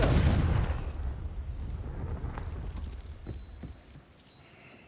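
A Confringo spell blasts in Hogwarts Legacy with a loud, booming explosion that rumbles heavily at first and then fades into a lingering low roar and crackling debris, with no voices.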